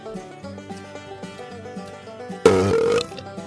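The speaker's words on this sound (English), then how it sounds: "There's the Undercountry Music News Wet Belch of the Week we've all been waiting for" A single wet, gurgling belch erupts loudly about halfway through, short and throaty, after a stretch of quiet background music.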